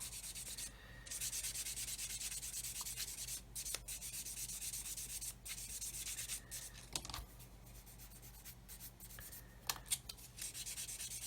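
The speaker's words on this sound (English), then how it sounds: "sand away to our heart's content until the seam disappears" Sandpaper rubs back and forth over a seam on a soft plastic Airfix 1/24 F6F-5 Hellcat model kit, a continuous close scratchy hiss with brief pauses and a few light ticks, no voices.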